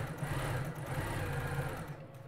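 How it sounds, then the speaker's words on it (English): A fast domestic sewing machine stitching quilt pieces for a Dresden Plate quilt, a rapid, steady mechanical whir with a buzzing needle rhythm that runs close and loud, then stops abruptly near the end. "my fast sewing machine. That's why I like her, because I can sew really, really fast on this lady."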